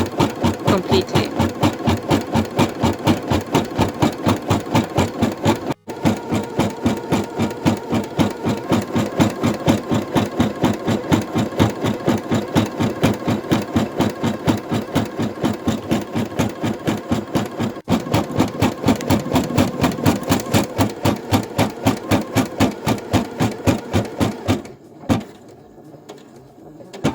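An embroidery machine stitches over the edge of a patch with a loud, fast, even needle rhythm that hammers on almost without a break before stopping near the end.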